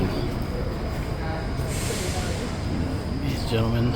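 A train waiting at a station on a Chinese-owned railroad line to Vientiane, Laos, gives off a steady low rumble and hum throughout, with a brief higher whine near the end.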